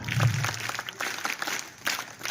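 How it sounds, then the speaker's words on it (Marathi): An audience claps for a student at a school Republic Day program, a brief burst of scattered hand claps that is moderately loud and unsteady. "एकदा जोरात टाळ्या उद्या राजनंदिनीसाठी"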